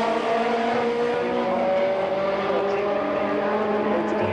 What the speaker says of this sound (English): Front-wheel drive cars taking to the quarter mile here.